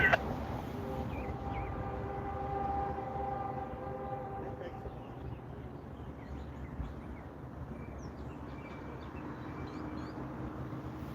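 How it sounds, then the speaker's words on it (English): An old locomotive horn sounds in a long held chord, fading as a low rumble of rolling train continues underneath. "Whatever engine is leading, it sounds quite old. At least the horn does."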